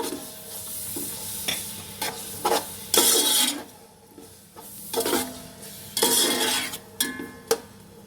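Green chillies fry in oil in a pot for matar pulao, with a soft sizzle under repeated scraping and clanking of a metal spoon stirring against the pot, close and without talking.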